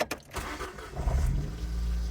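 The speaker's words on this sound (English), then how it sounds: "Make sure the car still starts" A car engine cranks and catches after the coolant cap has been refitted: a short churn of the starter, then the motor settles into a steady low idle close by, with no one talking.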